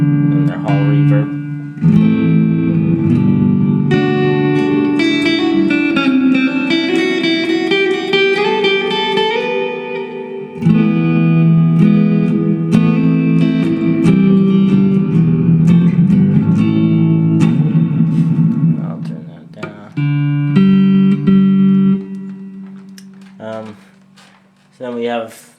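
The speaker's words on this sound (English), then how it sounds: "And their hall reverb." Clean guitar chords and picked notes ring through a Vox VT20+ modelling amp set to hall reverb, each strum trailing off in a broad lingering decay, close and steady across repeated phrases.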